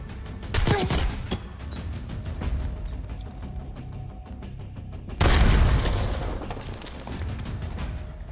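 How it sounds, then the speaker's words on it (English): Grenade blasts in the Call of Duty Black Ops 6 campaign: a loud boom near the start, rumbling gunfire, then a second heavy explosion midway that rolls on under faint voices. "Grenade out!"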